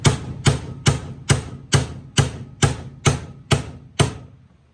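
Ten evenly spaced hammer blows strike a transmission front pump bushing on a 1966 GTO, each a sharp metallic knock with a short ring, loud and close with no talk.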